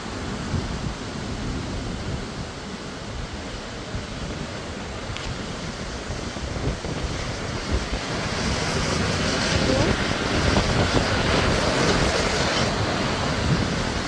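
Strong wind buffets the microphone over crashing surf at a dock in Bermuda during a storm, a broad steady roar that swells louder in the second half.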